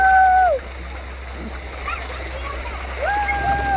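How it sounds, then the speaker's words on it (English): Water splashes and rushing spray on a water ride at a Nickelodeon park in Mexico, with excited riders whooping and shouting over the loud, steady wash of water. "Here comes the waves."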